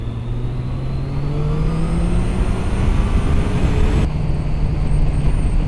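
A 2013 Triumph Daytona 675 motorcycle engine revs loudly and steadily while riding on the road, its pitch climbing smoothly, then dropping and rising again with a gear change, with no voices.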